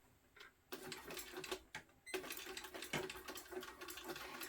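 A sewing machine stitches a fabric seam along the pattern's seam allowance at about a 4.5 stitch length, running as a steady, fairly quiet mechanical whir with two brief pauses before resuming.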